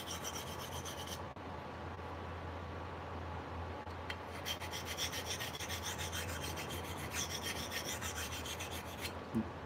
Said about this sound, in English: And I have a love-hate relationship with sharpening it,